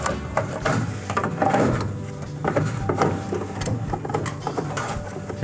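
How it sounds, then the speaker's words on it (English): Plastic control cover of a Fisher & Paykel clothes dryer being handled, fitted back into place and clipped on, a run of close clicks, taps and rattling knocks with brief scraping. "now with all of our wire harnesses reattached, we're going to put the control cover back on"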